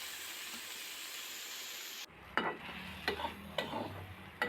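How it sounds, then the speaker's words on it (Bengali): Finely chopped pointed gourd being stir-fried in a pan, a brief hiss followed by several distinct scraping stirs over a low sizzle, close and fairly quiet. "নেড়ে চেড়ে একদম লাল লাল হয়ে আসা পর্যন্ত পটলগুলিকে ভেজে নিচ্ছি।"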